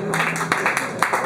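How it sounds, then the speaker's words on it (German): An audience at an acoustic open-stage night gives a short burst of clapping, a brief scattered patter of hands heard from nearby. "Können wir klatschen für?"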